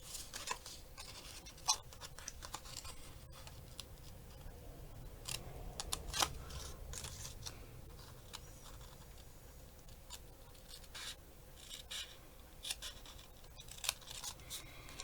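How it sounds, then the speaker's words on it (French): Scissors snip through a paper tag at a craft table, a series of short, crisp cuts at irregular intervals, close and fairly quiet, with no talking. "il me faut un ciseau, ce serait bien aussi."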